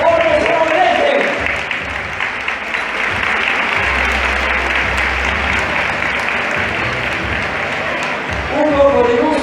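A crowd applauds at a half marathon event in Xàtiva, with sustained dense clapping filling most of the stretch and a voice over a loudspeaker at the start and end.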